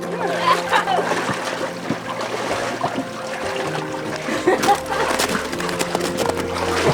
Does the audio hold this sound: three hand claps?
no